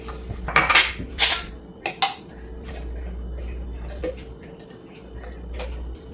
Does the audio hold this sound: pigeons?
no